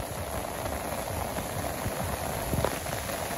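Steady rain falls on a Bangladesh village, a dense continuous patter with a few louder drops near the end, no voices.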